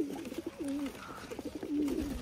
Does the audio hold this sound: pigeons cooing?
yes